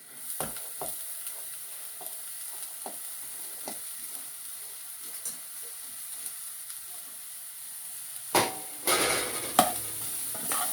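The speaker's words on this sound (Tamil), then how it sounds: "நல்ல வடிவாக நாங்கள் வதக்கி கொண்டு போகணும்" Cauliflower for a Tamil-style varai is stirred in a pan, with soft scraping strokes at a slow rhythm over a faint sizzle, then several louder, close clattering stirs near the end.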